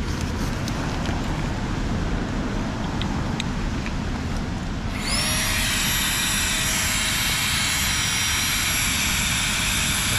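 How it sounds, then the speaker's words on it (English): A Flextail electric pump switches on halfway through and inflates a camping mat beside a road, a steady high whine that runs without a break after a stretch of outdoor rumble. "So we're back on a flex tail pump as usual."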